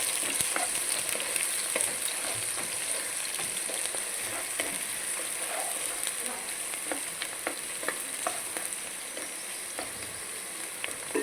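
Chicken frying in oil with green chillies and onion, a steady close sizzle and crackle running the whole time, with scattered pops and light stirring clicks.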